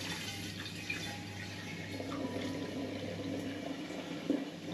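Gooseberry and apple syrup pours steadily into a glass demijohn, making a continuous close gurgling, splashing flow that holds at an even level for several seconds.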